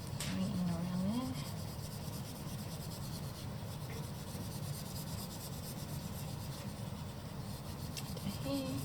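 Steady rubbing of a drawing medium over paper on an apple still life drawing, a soft continuous scraping texture that runs throughout at close range, with a brief faint voice near the start.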